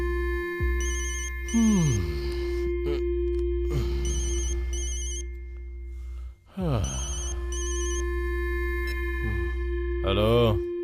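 A telephone rings repeatedly during an outgoing call in a tense Hindi-dubbed South Indian movie scene, bright ring bursts recurring every couple of seconds beneath a steady hum, with voices and dramatic sounds in between.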